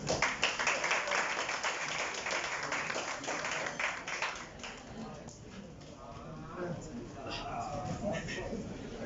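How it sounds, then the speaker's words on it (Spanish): Audience applause for a guest at a literary talk on poetry magazine texts, a dense wash of many hands clapping that is loudest at the start, then thins and fades under rising chatter and talk. "Por favor, un aplauso para Chara."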